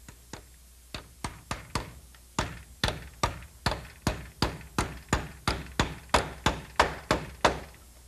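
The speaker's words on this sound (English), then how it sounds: "You nail them onto the stud so no one will be able to nail or screw into the Romex." Hammer blows nailing protective metal nail plates onto a wooden wall stud during electrical wiring work, about seventeen sharp, evenly spaced strikes that grow slightly louder and quicker, close and alone with no talking.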